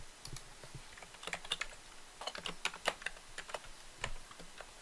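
Fingers tap a computer keyboard at close range while copying and pasting code, giving a quiet, steady run of crisp key clicks with no voices.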